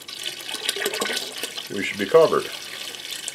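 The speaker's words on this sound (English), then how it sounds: "by the time I add the water to dilute it" Tap water pours into a vinegar bath meant for removing rust from cast iron, a steady splashing rush that runs under a man's speech.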